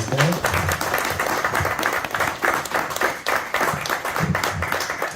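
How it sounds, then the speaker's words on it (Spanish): Audience applause for Pere Oliver at a Son Goku Made in Spain book presentation in a comics shop, a dense wash of clapping lasting throughout with a voice or two mixed in. "un aplauso para Pere Oliver"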